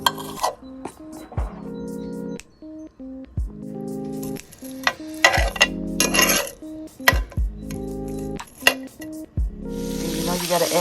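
Turkey sausage meat sizzling in a pan while being browned for soup, with a steady close fry under clinks of utensil against pot and some tonal kitchen noise, loud and near.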